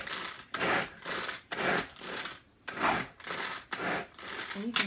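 A Tupperware pull-cord chopper cuts onions with about eight rhythmic rasping whirs as the cord is pulled again and again, close and fairly quiet.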